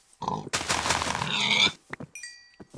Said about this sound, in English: I better grab a couple of these pigs here while I'm at it